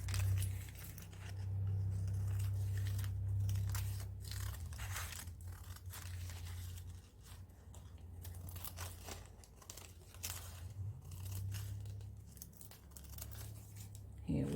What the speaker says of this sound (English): So I'm going to trim this right here